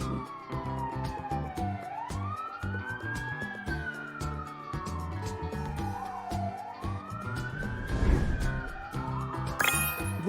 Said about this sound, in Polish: Wóz strażacki.